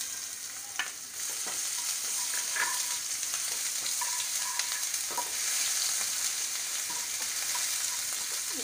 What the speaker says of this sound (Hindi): अब डालेंगे लहसुन अदरक का पेस्ट,